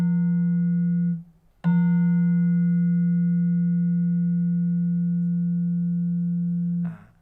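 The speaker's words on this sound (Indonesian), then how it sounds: "bilah yang bunyi terakhir kali ini dibiarkan bergetar" A single slenthem bar of a Javanese gamelan, a bronze metallophone key struck with a padded mallet, hums with a steady low tone; it is briefly damped, struck again, then rings on long and evenly before being stopped, with no talk.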